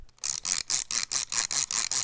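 A rapid, regular run of about eight sharp mechanical clicks from a toy Omnitrix wristwatch, each with a bright whirring edge, close to the listener and fairly loud.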